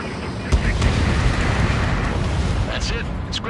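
Enemy bomber exploding after being shot down in a flight combat video game, a loud rumbling blast rolling on over jet engine noise, with radio voices talking.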